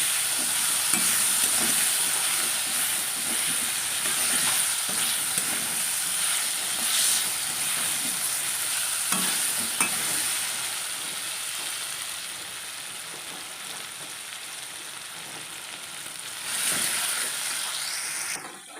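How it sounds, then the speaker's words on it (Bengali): Potatoes fry in a pan with a steady, even sizzle and hiss that holds at a constant level throughout, with faint stirring scrapes and no talking. "আলু ভাজা হয়ে গেছে"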